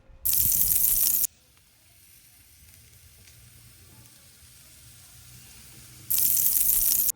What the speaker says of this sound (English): We're going to sear them on either side